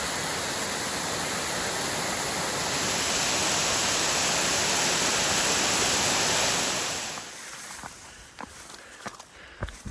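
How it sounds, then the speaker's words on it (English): Katahdin Stream Falls pours as a steady, broad rushing roar of falling water in the forest, fading partway through as footsteps and faint movement sounds take over near the end. "That's a nice waterfall."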